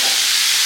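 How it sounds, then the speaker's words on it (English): Food sizzles on a Ninja indoor grill in a home kitchen, a steady loud hiss close up, short and without talk. "y'all hear that sizzle? Baby, we grilling in the house."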